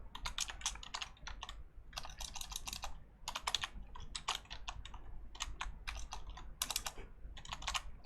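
Computer keyboard typing in bursts of rapid clicking keystrokes with short pauses between, close and steady, while entering an Excel IF function formula.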